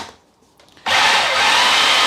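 A food processor whizzing up a chicken liver pate mixture, silent for almost a second before starting abruptly into a loud, steady, close motor whir that holds to the end.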